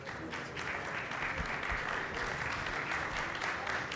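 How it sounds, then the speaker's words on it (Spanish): Audience applause at a business expo session in Monterrey, a steady wash of clapping from a seated crowd, moderately distant and even for four seconds. "Y Enrique, pues un aplauso"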